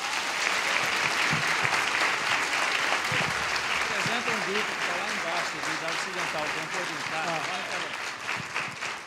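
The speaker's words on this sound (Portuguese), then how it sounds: "vamos dar uma salva de palmas para todos, em nome de Jesus" A church congregation at a Christian congress applauds, sustained dense clapping filling the whole stretch with murmuring and voices mixed in underneath.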